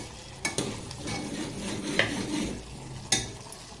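Chicken goes into a thickened cornflour mixture in a hot pan for restaurant-style triple rice; a steady sizzle runs throughout, broken by a few sharp metallic clanks of a spoon against the pan.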